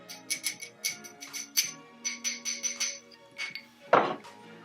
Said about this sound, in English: we're gonna take a couple of ice cubes and then we're gonna put them into the glass